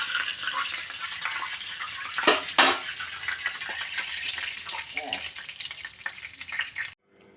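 Hilsa pieces rubbed with salt and turmeric fry in hot oil, giving a loud, continuous crackling sizzle with a couple of sharp bursts midway before the sound cuts off abruptly.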